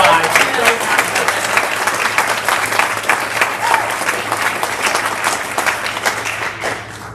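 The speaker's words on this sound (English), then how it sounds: "Let's give another round of applause for Levi." Loud, sustained applause from a crowd at a school board meeting, dense clapping that carries on throughout and tapers slightly at the end.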